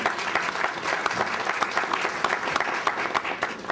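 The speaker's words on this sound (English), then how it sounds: "So give yourself a round of applause." A conference audience gives a short burst of applause, dense and steady clapping from many hands filling the room for a few seconds.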